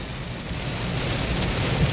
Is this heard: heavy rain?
yes